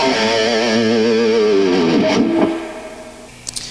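Distorted electric guitar playing a metal rhythm part with added fills, loud and continuous for about two and a half seconds, then a brief ringing tail and a couple of faint picked notes.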